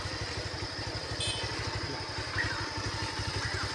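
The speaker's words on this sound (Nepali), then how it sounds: "यताबाट बाइक आउँदैछ" A motorcycle engine chugs on a landslide-damaged off-road mountain track in the evening, a steady low pulsing thump at moderate distance, fairly quiet, with no talking.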